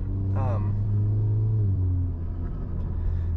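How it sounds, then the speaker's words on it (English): A car with a stage 1 IE tune lets out a turbo compressor surge on closed throttle, a rapid fluttering chatter over a loud, steady engine rumble up close. "with this stage 1 tune from IE, we get this awesome turbo compressor surge"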